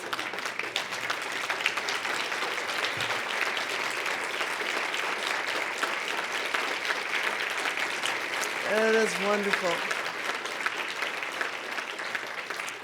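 Standing audience at a university dean's investiture ceremony applauds steadily for the full stretch, a dense, sustained crowd roar, with a brief spoken phrase and faint voice rising near the end.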